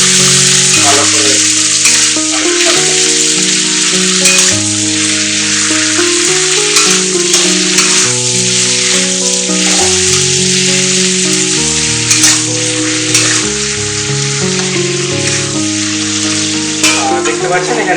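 Sliced onions with salt sizzle and get stirred in a pan while cooking down for a yogurt mutton curry, a constant bright frying hiss with occasional scrapes, set against continuous background music.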